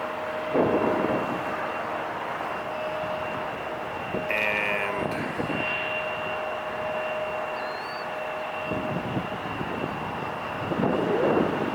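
A LATAM airliner passes overhead near LAX as a steady, moderately distant jet roar with a faint high whine, accompanied by a few intermittent rumbles and knocks.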